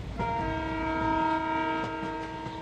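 A train pulls away from a station with a long, steady horn blast starting just after the opening, backed by a low rumbling of the carriages.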